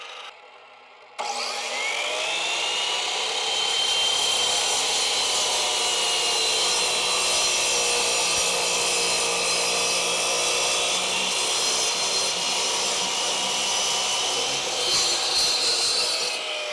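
Evolution Tools concrete saw cutting through material, starting abruptly after a moment of quiet and then holding a loud, steady, close grinding whine to the end.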